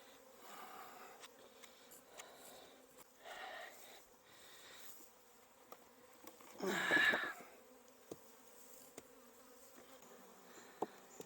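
Honey bees in an apiary production yard, agitated during a dearth, hum and buzz faintly, with one louder close pass of a bee near the microphone midway and scattered small knocks and clicks.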